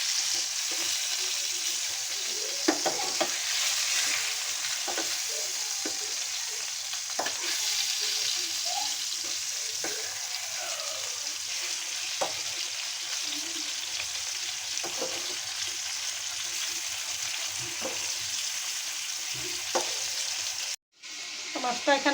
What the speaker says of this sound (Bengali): আমি হালকা ভাজবো, মাছ বেশি কড়া ভাজা দিব না।